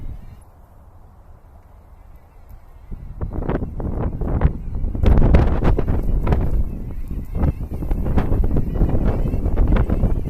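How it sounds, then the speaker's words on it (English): Gusty wind buffeting an outdoor microphone in wet, snowy weather, starting low and steady, then turning into loud, rumbling bursts that pound the mic repeatedly. "We got some gusts coming"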